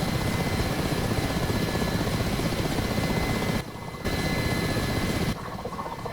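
Ka-50 Black Shark helicopter in the DCS combat flight simulator, its loud, steady rotor and turbine drone filling the cockpit with two brief dips in level, apparently spinning after losing its tail rotor.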